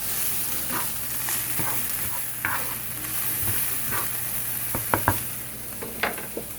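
Eggs and onions fry in a pan under a steady sizzle, with scraping stirs and a few sharp clacks of a utensil against the pan near the end, close and without talk.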